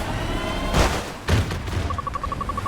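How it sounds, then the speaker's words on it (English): Gunfire striking the player in Battlefield 2042: two heavy, close impacts land about half a second apart amid a rattling fusillade, followed by a rapid, repeating beeping lock-on tone. "We are taking a significant amount of shots right now."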